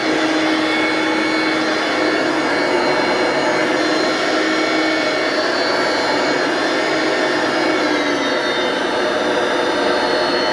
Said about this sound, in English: That's how fast that vacuum sucked that spot up.